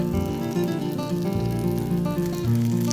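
Food frying in oil on a pan for a chow chow bath tiffin dish, a steady soft sizzle running beneath louder background music throughout.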